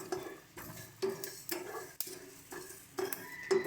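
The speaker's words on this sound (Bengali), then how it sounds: "এবার এটাকে একটু হালকা করে ভেজে নেব।" Whole cumin and coriander seeds lightly fried and stirred in a hot pan: repeated scraping strokes of a spatula against metal, roughly one every half second, over a quiet sizzle.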